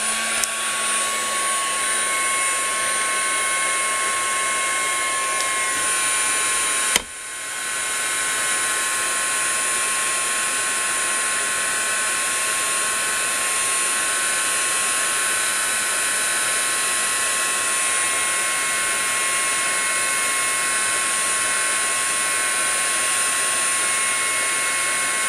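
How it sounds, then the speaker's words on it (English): A heat gun blows over gesso on a mixed media tag, a loud, constant whirring roar with a faint high whine that cuts out briefly after a click, then resumes steadily. "you can use a heat gun. So I'm going to go ahead and do that."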